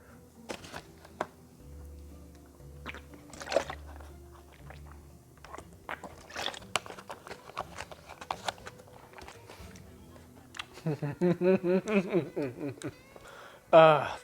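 Chewing and biting into a cinnamon swirl protein bar close to the mic, with soft crunchy bites and mouth sounds across the clip, some handling and shuffling noises, and a burst of humming or voiced sound near the end.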